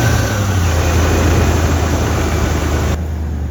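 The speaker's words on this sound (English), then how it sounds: "if you jump those out with a giant screwdriver, what I believe we're going to see is the vehicle will start" A 1992 Ford F-150 with a jumped starter solenoid runs as a loud, steady engine drone close by, its tone shifting abruptly near the end.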